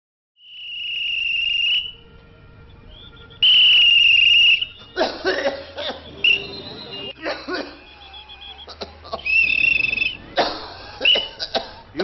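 A person coughs repeatedly in harsh, loud bursts over a constant high-pitched chirping of crickets, with the coughs clustering toward the second half.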